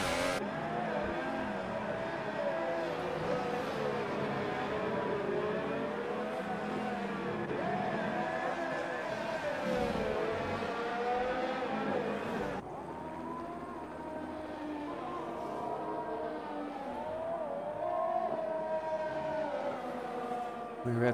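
Several Formula 1 cars from the F1 2018 racing game scream past at high revs, their engine notes rising and falling, with a commentator's voice running beneath the steady whine.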